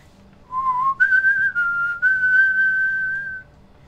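A person whistles a short melodic phrase of a few sustained, steady tones, close and clear against a quiet background.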